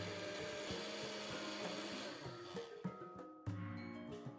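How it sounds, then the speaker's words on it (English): A kitchen blender whirs steadily in the video game The Coffin of Andy and LeyLey, a dense grinding drone that sputters and cuts out toward the end, followed by a few short knocks. "Oh, shit. Blender."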